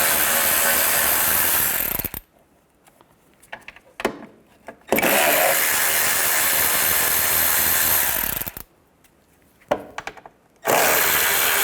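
A ratchet with a 10mm socket works nuts and bolts loose on a 1998-2010 Volkswagen Beetle during A/C condenser replacement. It comes as loud, dense, close-up bursts of a couple of seconds or more, separated by quieter pauses.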